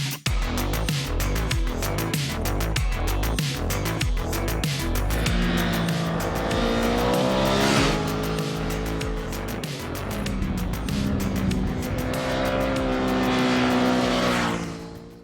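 A Ducati Multistrada V2S motorcycle rides a mountain road, its engine loud and close with rising and falling revs through gear changes, a steady throaty drone with no talking.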